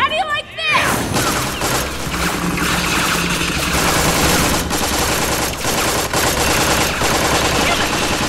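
Automatic gunfire fills a combat scene in Tales from the Borderlands, with rapid continuous bursts and loud impacts after a brief opening sound, while voices shout over the shooting.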